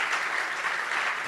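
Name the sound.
audience applause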